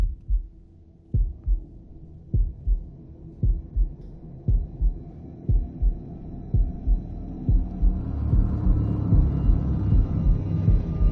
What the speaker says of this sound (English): Look at that heartbeat.